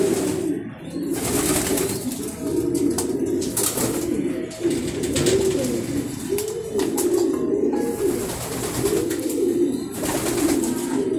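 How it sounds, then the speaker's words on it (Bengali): Racing pigeons kept as stock birds in a loft coo continuously, many overlapping throaty calls close by, with occasional wing flaps and rustling. "অনেকগুলো কবুতর।"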